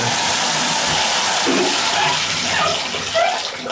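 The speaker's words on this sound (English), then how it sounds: "I do want to show you that we've got good hot water pressure." Hot water runs steadily from a tap into a basin, a loud, continuous rushing splash close by, with no one talking.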